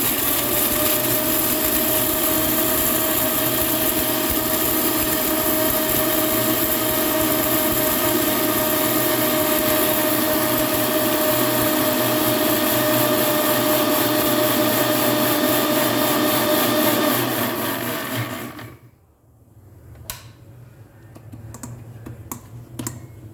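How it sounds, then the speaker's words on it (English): An electric grinder whirs loudly and steadily as it grinds whole spices for Goan garam masala, running for a long stretch before cutting off abruptly and leaving a few small knocks. "Okay, and we'll grind this."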